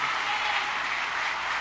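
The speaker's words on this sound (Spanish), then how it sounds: "Dele fuertes palmas a nuestro Padre." A church congregation claps loudly and steadily during a sermon, a dense continuous wash of applause with no voices standing out.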